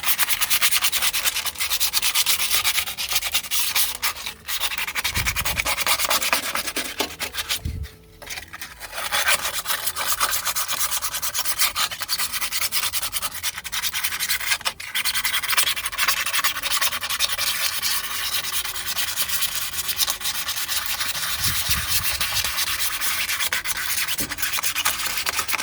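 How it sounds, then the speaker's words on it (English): A Porsche 911 flywheel is sanded by hand with 120 grit sandpaper to remove glaze, producing continuous rasping, rubbing strokes that stay close and loud, with a brief pause midway and no talk. "So I take this is 120 grit sandpaper and just"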